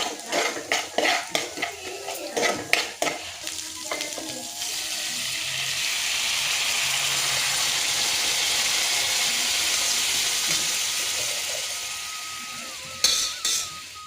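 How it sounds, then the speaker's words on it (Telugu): Ginger garlic paste fries in a pan for a palak dal fry, opening with sharp clinks and scrapes of a spoon stirring, then a steady, fairly loud sizzle holds for several seconds before a few more metal taps. "కొంచెం అల్లం వెల్లుల్లి పేస్ట్ ఒక్కటేనండి కొంచెం పచ్చివాసన పోయే వరకు వేపుకోవాలన్నమాట"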